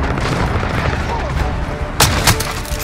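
Enemy gunfire in Call of Duty: Modern Warfare, with a couple of sharp shots cutting through a dense, constant roar of battle noise near the end.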